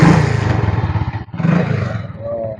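A Chinese-made motorcycle engine starts and runs, a loud close rumble with rough clattering revs, a brief drop in the middle, then steady idling to the end.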